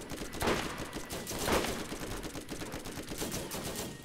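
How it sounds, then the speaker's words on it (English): Rapid gunfire from Borderlands, a dense continuous rattle of shots with a couple of louder bursts, fairly steady throughout. "Shoot him in the arse works as well if you can't shoot him in the face"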